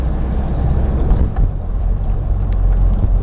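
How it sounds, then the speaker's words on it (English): A Mitsubishi L200 pickup truck engine idles after a turbo rebuild with a low, steady rumble, accompanied by faint wind noise and road sounds and no voices. "it's idling along really nicely actually"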